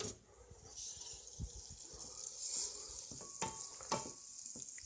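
Butter melting over medium heat in a pan, a steady soft sizzle and hiss running the whole time with a few scattered clicks and taps of a utensil near the end, close and fairly quiet.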